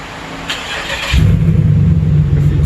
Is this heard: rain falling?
no